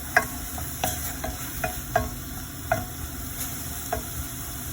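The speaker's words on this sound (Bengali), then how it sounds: "আর আমি পেঁয়াজের গন্ধটা পর্যন্ত যাওয়ার আগ পর্যন্ত আমি জাল দিব" Onions fry in a cooking pot with a soft, steady sizzle, broken by a string of light, evenly spaced taps and clicks from stirring, fairly close and without any voices.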